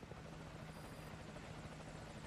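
A helicopter drones in the distance in Metal Gear Solid V: Ground Zeroes, a steady rotor rumble that fills the short span evenly without talk.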